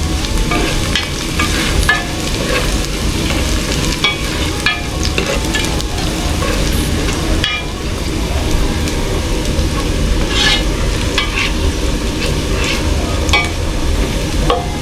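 Loud, steady sizzling and frying as ingredients for a beef-innards dish sauté in a pan, with scraping stir strokes running throughout, close and continuous, no voice present.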